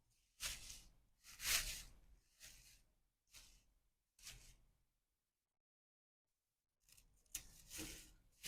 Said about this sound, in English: The straw is a little long, so I'm cutting it up like this because we have to fit our candles.